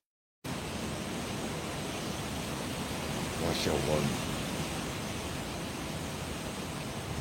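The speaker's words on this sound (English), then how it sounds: "You'll see some big gusts." Strong typhoon wind roars steadily outside an open front door, a broadband rush that swells into a louder gust midway, with a brief voice over it.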